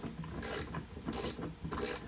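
A socket ratchet clicks in three quick bursts while a nut on a backboard curtain rod bracket is tightened, close and fairly quiet, with brief pauses between the runs of pawl clicks.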